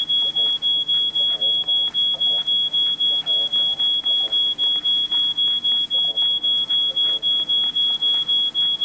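A smoke alarm set off by burnt toast shrieks in a steady, rapid pulsing beep that repeats through the whole stretch, loud and close, with people talking quietly beneath it.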